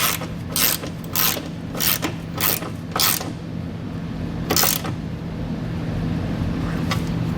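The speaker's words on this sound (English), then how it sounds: "For the one in the middle, we're going to tighten that down using a 5/8 socket." A ratchet with a 5/8 socket tightening a bolt on Westin Platinum Series oval nerf bars on a 2013 GMC truck, heard as a run of sharp, close rhythmic clicking strokes followed by a steady low mechanical hum.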